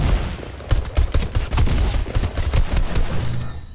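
Rapid bursts of shotgun fire from a Fortnite match crack out in close succession, loud and near, with overlapping blasts and thumps filling the whole stretch.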